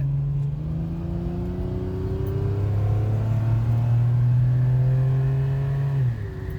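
A Ferrari accelerates with a steady, rising engine drone that climbs smoothly through a gear before cutting off near the end, heard from inside the car with no talking.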